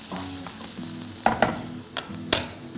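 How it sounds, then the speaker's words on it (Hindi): Green, red and yellow capsicum stir-fried on a high flame in a pan for tawa pulao, with a steady sizzle and several sharp scraping clacks of the spatula against the pan at irregular intervals. "अच्छे से इसको हम एक हाई फ्लेम पे स्टर करेंगे।"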